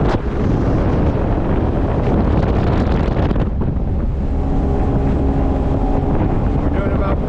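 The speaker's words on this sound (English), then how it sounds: "I'm going to trim the main motor up to pick up speed." A 2004–2005 Ranger bass boat powered by a Mercury 225 outboard runs at speed as the motor is trimmed up, a dense, loud roar of engine, wind buffeting and water rush that shifts into a steadier tone partway through.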